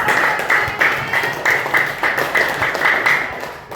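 Steady clapping from a group at an elementary school in Kerobokan, a rhythmic burst of applause with a regular beat, close and fairly loud throughout.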